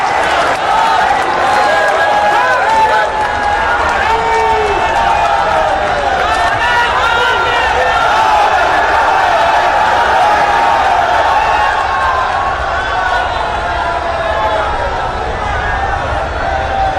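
A large crowd at a rally for Prime Minister Narendra Modi in Varanasi applauds and cheers in a dense, steady roar that lasts the whole time and carries a loose mix of voices.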